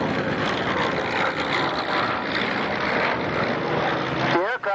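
A vintage German fighter aircraft with its original Daimler-Benz engine flies past at an airshow, a loud, steady engine roar filling the whole stretch before cutting off abruptly at the very end.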